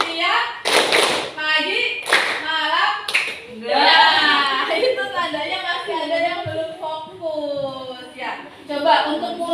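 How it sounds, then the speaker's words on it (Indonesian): Rhythmic clapping from a classroom clapping game, a few sharp, loud group claps spaced apart, mixed with voices chanting and talking between the beats. "Tepuk pagi, pagi, siang, pagi, malam."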